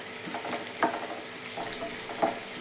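Curry leaves, mustard seeds and onion frying in hot oil, a steady sizzling hiss with a few louder crackles and pops, close and moderate in level, no talking.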